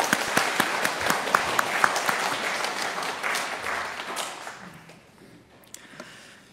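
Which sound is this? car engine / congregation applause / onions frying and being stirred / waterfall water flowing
congregation applause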